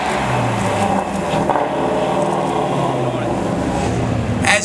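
A Ford Shelby performance car's V8 engine runs steadily and loudly close by, with a low droning rumble and slight swells in pitch over a few seconds.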